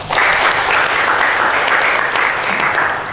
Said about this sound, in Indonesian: Kita kasih tepuk tangan untuk panitia